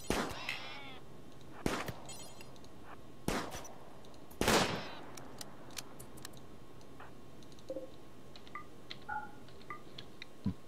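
Scattered gunshots from colonists at shooting practice in the colony-building game Rimworld: a few sharp, loud cracks spaced seconds apart, then faint small ticks and blips over a quiet background, with no talking.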